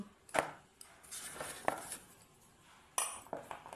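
Kachori dough stuffed with green pea filling is rolled out on a floured board with a rolling pin, giving soft scraping strokes and a few sharp knocks and clinks of utensils, close and fairly quiet with no talking.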